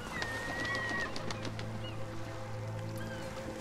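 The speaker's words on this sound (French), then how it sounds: "Eh les mouettes" Seagull cries in the video game Rime: a few thin, high calls over a steady low hum and a watery ambient bed, moderately loud and continuous for the whole stretch.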